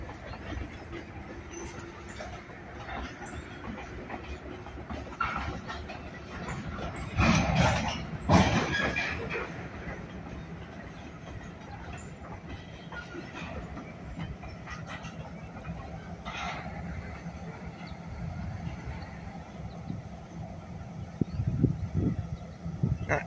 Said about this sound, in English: Locomotives will probably be visible there when they get done shoving back.